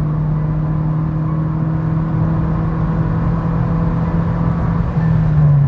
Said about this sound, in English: I'm flooring the car again.